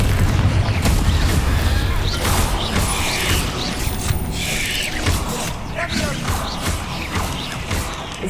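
Spell blasts and booming impacts from the Confringo fire spell in Hogwarts Legacy, a dense, continuous clatter of explosive bursts and mechanical rumble filling the whole stretch, loud and close.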